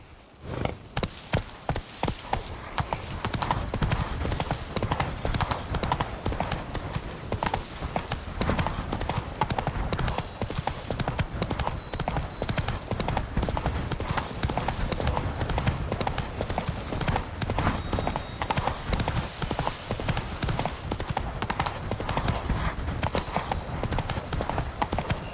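The horse Roach trots through The Witcher 3 with a brisk, even clip-clop of hooves that runs continuously and close by, with only faint game ambience beneath it.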